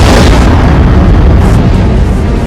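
A loud, sustained explosion roars with heavy low rumble and dense broadband blast, a massive detonation tearing outward for about two and a half seconds without pause.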